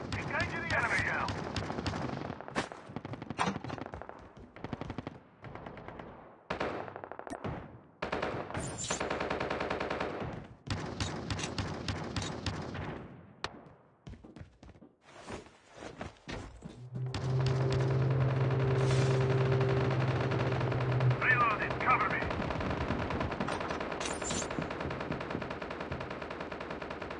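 Bursts of automatic and single-shot gunfire in Call of Duty Mobile on the Alcatraz map, loud rapid volleys and booms that come and go over the stretch, with intermittent game voice callouts and a sustained hum in the latter half.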